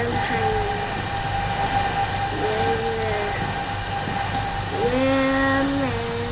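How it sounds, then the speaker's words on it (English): Trains in the Minecraft MTR mod run with a steady electric hum and rumble, joined by tonal whines that glide up in pitch, loud and continuous with no talk. "We're gonna chase after these damn trains."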